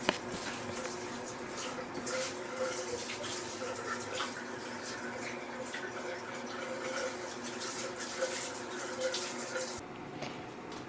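Steady running water from a Rinseroo shower attachment rinsing dish soap down a shower drain, a continuous close splashing spray that cuts off near the end.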